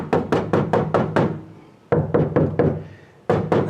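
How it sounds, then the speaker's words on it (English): Knuckles rap on the thin, tinny metal transmission tunnel of a Chevrolet Suburban stripped for carpet install, a quick run of six close hollow knocks, a pause, a second burst of four, then one more, loud and near. "you have to knock on your stuff, right? You got to show how tinny it is."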